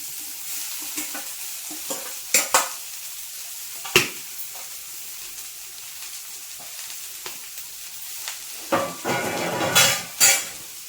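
Bean leaves fry in hot oil and are stirred in a pan, a soft sizzle under repeated utensil scrapes and clacks against the pan, busier toward the end.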